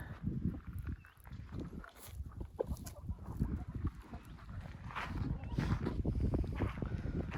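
Chickens and a rooster resting in shaded corners of a village yard make soft clucks and rustling amid steady ambient noise, with footsteps moving closer throughout.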